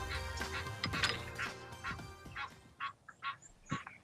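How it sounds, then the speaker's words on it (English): Waterfowl on a golf course give a series of honking, quacking calls, irregular and fairly close, fading to short scattered cries. "The birds are happy for me."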